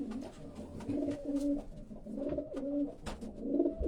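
A racing pigeon coos nearby in a loft, giving several low, rolling throaty coos in short repeated phrases with brief pauses between them.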